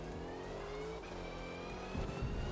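A race car engine in Forza Motorsport at Silverstone holds a steady, loud, high-pitched drone at full throttle, its pitch climbing gradually, with a brief rougher rumble near the end and no talk.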